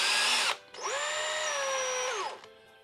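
A power drill whirs at high speed in two bursts, spinning a pillow ball from an RC car's front suspension, a brief spin followed by a longer steady run that winds down, close and clear.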